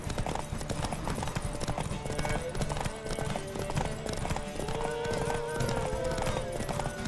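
Hooves of Roach, a horse in The Witcher 3: Wild Hunt, clip-clop in a fast gallop during a race, a steady drumming that runs throughout, with a whinny and someone talking over it.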